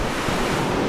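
Rushing water of the Soča river where it narrows into a rocky canyon, a loud, dense roar filling the whole moment, with no voices.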